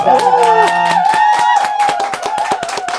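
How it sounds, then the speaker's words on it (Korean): An audience at a political talk event claps, a burst of sharp, rhythmic hand claps that is close and loud at first and then thins out, mixed with a sustained voice tone. "박수로 모시도록 하겠습니다"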